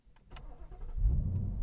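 A Ford Mustang GT with a 5.0-litre V8 is started: a starter whirs briefly, then the engine catches with a deep, loud low-pitched roar that settles into a rumbling idle, heard close up.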